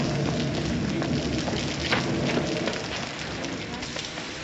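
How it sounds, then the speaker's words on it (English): Steady heavy rain hisses in a dense, unbroken wash with no gaps, loud and close throughout. "If it's raining worse, it's a sign it's nearly over."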